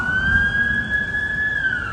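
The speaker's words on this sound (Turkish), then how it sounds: "Şu anda ambulans geçiyor." A loud, sustained ambulance siren wails close by in Moldova, its tone drifting slightly up and down over a background rumble of traffic.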